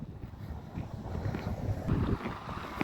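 Wind blowing outdoors on a cold winter day in southern Finland, a rough low rumble buffeting the microphone in uneven gusts that strengthen toward the end, with no talk.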